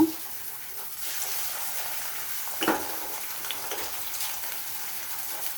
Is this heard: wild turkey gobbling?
no